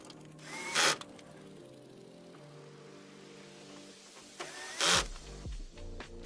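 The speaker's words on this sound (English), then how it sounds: "I put in 2 screws I really didn't need to" A power drill drives screws in two short, loud whirring bursts several seconds apart, with quiet handling noise between them.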